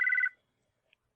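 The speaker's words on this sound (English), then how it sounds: "Hey, what was that? That's a phone." A single short electronic telephone ring burst sounds in a tabletop role-play session, a clear tonal chirp lasting about a quarter second, then silence with a tiny faint blip after.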